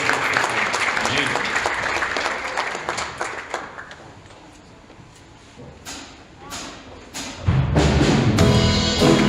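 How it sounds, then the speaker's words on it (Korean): A church congregation applauding during a Sunday service, clapping strong at first then thinning to scattered claps before rising again, mixed with voices and sharp knocks. "우리 그 사랑하는 하나님께 박수를 한번 부탁드립니다."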